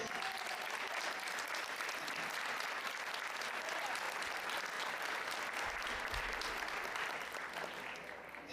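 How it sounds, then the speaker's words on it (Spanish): Pensioners at a club gathering applaud the cook and waiters with a steady, full round of clapping that holds evenly for several seconds before easing off slightly at the end. "un aplauso para ti y todos los camareros"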